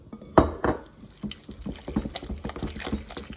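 Eggs go into choux pastry dough during mixing, making a wet thud and then soft, uneven squelching and slapping as the dough is worked. The sounds are close and mostly clear of talk.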